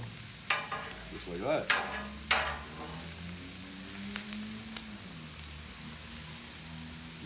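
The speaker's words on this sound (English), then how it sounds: "we're going to add our mushrooms to saute in the bacon grease" Mushrooms sauté in bacon grease on a Pit Boss pellet grill, a steady close sizzle with scraping stirs running under a voice that speaks briefly near the start.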